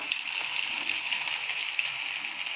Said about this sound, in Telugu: ఇప్పుడు క్రష్ చేసిన గార్లిక్ అనేది వేసేస్తున్నా